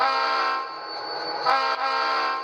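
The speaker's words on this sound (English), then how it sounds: "Can honk the horn." An HO-scale model train horn sounds in one sustained, steady blast, close and loud, with a brief wobble partway through.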